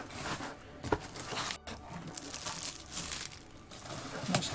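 Plastic bags crinkling and rustling close by while resin 3D pen inks are unboxed, a quiet, continuous crackle with a few sharper crunches and handling sounds.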